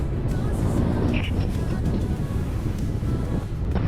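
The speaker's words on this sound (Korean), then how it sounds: "와씨 바람 진짜 미쳤다" Strong, steady wind roar buffets the microphone while riding a motorcycle along the seaside on Phillip Island, loud and continuous throughout with a faint voice briefly under it.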